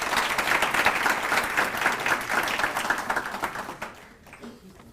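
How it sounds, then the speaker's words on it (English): A conference audience at the Green Youth Indaba gives a speaker another round of applause, dense and lively clapping throughout that tapers off and dies away in the final second. "Please, can we give her another round of applause?"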